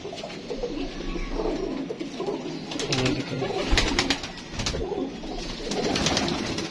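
Domestic pigeons coo in a home loft where a young pigeon has been raised, soft throaty calls repeating continuously and close by, with occasional light taps and shuffles.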